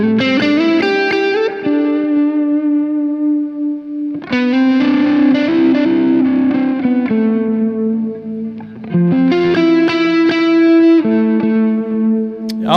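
Electric Stratocaster guitar played through effects, loud sustained chords with distortion and chorus, strummed in three long swells with ringing tails, alone with no talk.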